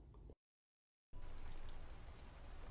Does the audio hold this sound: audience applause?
no